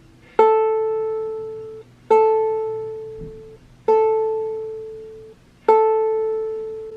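A ukulele's first string, tuned to A, is plucked four times at steady intervals during tuning, each note ringing clearly and decaying slowly, close and alone with no talk.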